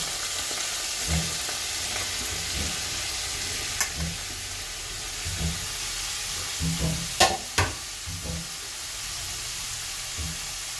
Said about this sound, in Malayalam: ഒന്ന് എണ്ണയിലൊന്ന് വാട്ടിയാൽ മതി, ചെറുതായിട്ടൊന്ന് വാട്ടിയാൽ അപ്പോൾ നല്ല ടേസ്റ്റ് ഉണ്ടാക്കും